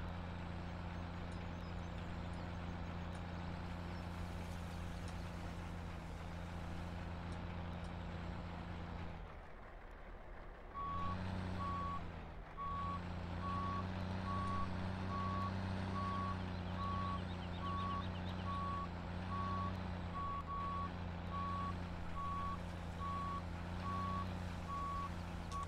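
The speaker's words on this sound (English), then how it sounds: "there's the dump trucks" Dump trucks reversing in the Farming Simulator 17 video game, with steady repeating backup beeps running under constant low engine drone and a brief dip in the noise partway through.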